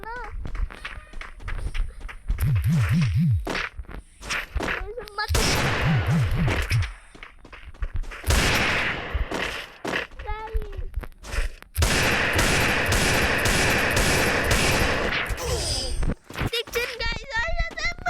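Gunfire from a shooting video game, with several bursts and single shots scattered among running footsteps and game effects, while a child-like voice talks over much of the action.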